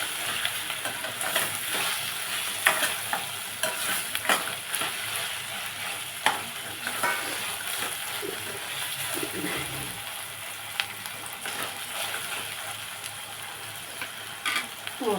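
Sliced onions with ginger garlic paste frying in a pan, with a soft continuous sizzle and intermittent scraping stirs, close but fairly quiet, with no talking.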